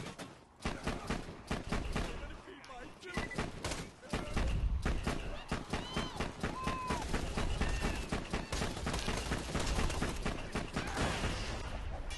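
Rapid, dense gunfire from the video game Borderlands 2 fills the scene, with bursts of shots and thuds layered over a constant in-game action soundtrack; there is no pause between volleys.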